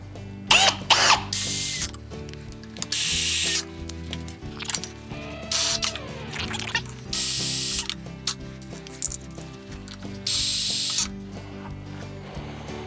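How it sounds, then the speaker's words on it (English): A cordless drill on a slow, low-clutch setting drives screws into a TREX Signature rod rail system, with several separate whirring bursts and ratcheting clutch clicks between pauses, close and fairly loud. "I'm gonna put this on slow drive so we don't overdrive these screws."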